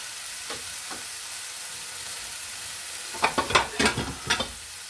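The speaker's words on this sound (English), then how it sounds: "And we fry just for one side of that." Food frying in a pan at a campsite, with a soft steady hiss; a cluster of louder crackling spits and scrapes comes close together near the end.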